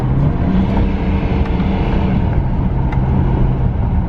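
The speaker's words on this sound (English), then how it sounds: "So here it is working, downshift." A BMW E90 3 Series engine drones steadily up close as it downshifts through the steering-wheel paddle shifters, a continuous, loud rumble with no clear separate gear blips.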